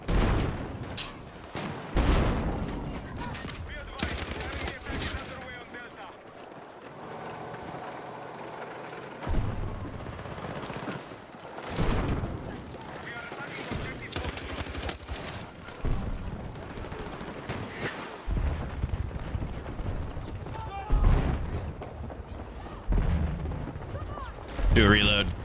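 Video game gunfire: booming shots and heavy blasts in irregular bursts, some rapid, with people talking over the combat noise.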